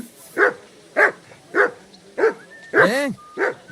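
A dog barks six times in a steady rhythm in Kingdom Come: Deliverance II, loud and close, and the fifth bark stretches into a drawn-out howl-like yelp.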